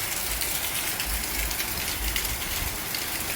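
Heavy rain pours down on farm fields, a dense, unbroken hiss of drops with a low rumbling undertone, loud and constant from start to finish.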